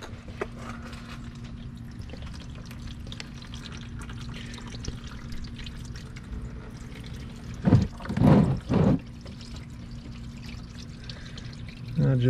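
Motor oil drains from a 4.0T Audi S7 during an oil change, a low steady trickling under faint background hum, broken by a few louder splashing gurgles toward the end.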